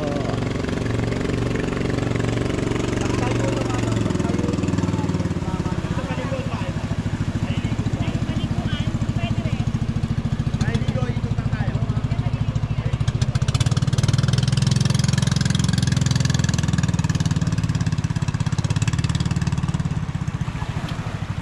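A small motorized bangka boat's engine idles with a steady, chugging low drone, close by and loud, with a slight rise in intensity toward the end, at Wawa, Montalban, Rizal.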